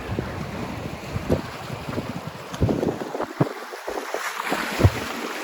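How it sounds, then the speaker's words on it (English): Beach with waves and wind, heavy gusts buffeting the microphone over a rough, fluctuating wash of surf, loud and close with no voices. "We got the beach, people walking on the beach."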